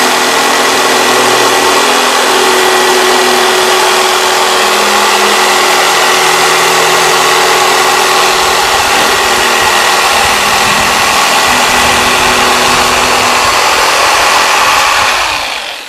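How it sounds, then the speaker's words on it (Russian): A circular saw cuts extruded polystyrene foam board, a loud steady high-pitched whine with a gritty buzzing edge that runs unbroken for about fifteen seconds before spinning down at the end. "И немножко вот тут тоже циркулярка получше будет."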